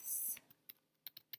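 Several quick key clicks on a computer keyboard, faint and close, preceded by a brief hiss, scattered irregularly across little more than a second.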